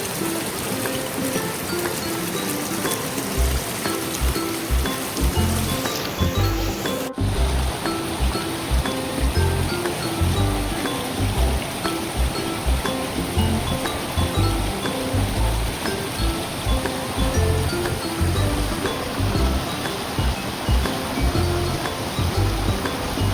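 Outdoor stream water flowing in hot weather, a continuous rushing wash with a steady low churning that runs unbroken and fairly loud throughout.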